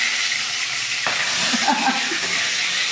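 Hot oil in a wok crackles and hisses steadily as a fish head fries, a continuous close sizzle with a few sharper pops partway through.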